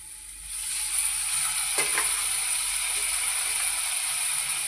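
Dried bombil (Bombay duck) fish hits a hot pan for a dry masala, setting off a loud, steady sizzle that begins about half a second in and holds evenly, with a brief scraping stir near the middle.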